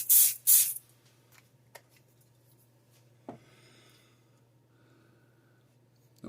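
CA glue activator is sprayed onto a maple burl pen blank in two quick, close hissing bursts, followed by faint small taps in a quiet room.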